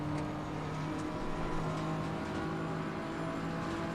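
Race car engine in Assetto Corsa Competizione on the Nordschleife, accelerating flat out up the gears along the main straight: a steady, droning engine tone held at moderate loudness throughout.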